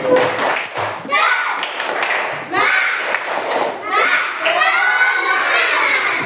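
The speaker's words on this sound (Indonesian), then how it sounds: "kita tepuk semangat dulu sebelum kita tutup" Primary school pupils in an Indonesian classroom perform a rhythmic clapping chant, sharp claps and thumps in short bursts mixed with loud children's voices shouting along, close and lively throughout.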